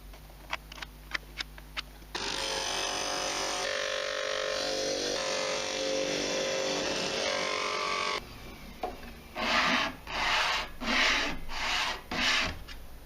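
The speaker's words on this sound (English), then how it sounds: "back to the disc sander to get it down to final dimension" A disc sander grinds a wooden coaster down to its final size. A few light taps come first, then a loud, steady grinding runs for about six seconds, followed by several shorter sanding passes in an uneven rhythm.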